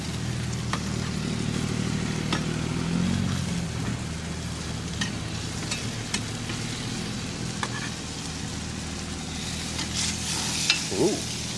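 Burgers cooking on a Weber Q grill give a steady, close hiss of sizzling fat, with a few faint clicks and pops scattered over it and no voices.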